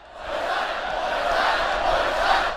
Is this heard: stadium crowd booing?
yes